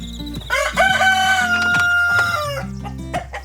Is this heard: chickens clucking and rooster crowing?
yes